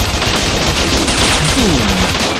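Rapid machine gun fire from the action video game Bot Vice, a dense, loud, continuous burst of shots filling the whole moment with a few sweeping tonal effects woven through it.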